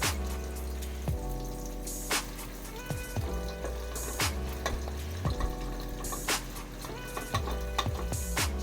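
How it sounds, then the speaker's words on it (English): Steady sizzling of red palm oil and onions frying for egusi with a bright crackle, broken by clanks and scraping of a utensil stirring the pan several times. "So here I have my red oil and onion frying."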